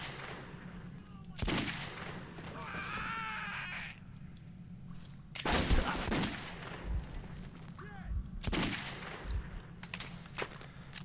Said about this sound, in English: I think I better start counting my shots